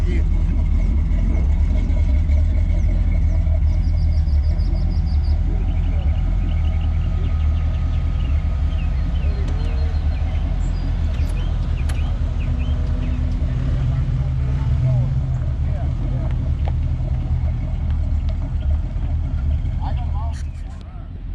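Old GM pickup truck engines rumble steadily and loudly nearby, a continuous low drone of trucks rolling into a small town for a truck show, with faint background activity.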